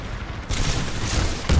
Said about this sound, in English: Gunfire is coming everywhere.